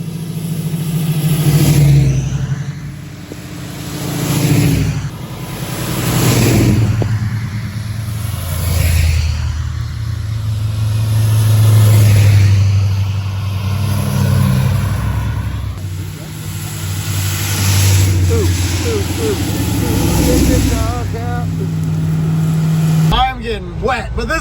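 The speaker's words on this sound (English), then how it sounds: "We have more race cars out on the road." Race cars drive past on a rain-soaked road during stormy weather, their engines revving and swelling loud and close in repeated passes while people talk excitedly over the roar.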